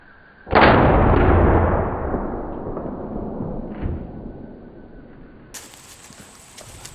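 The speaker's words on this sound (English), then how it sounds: "We're gonna try out the powder pistol real quick." A single loud powder pistol gunshot outdoors during deer season, a sharp crack followed by a long decaying echo, then quiet with a faint rustle near the end.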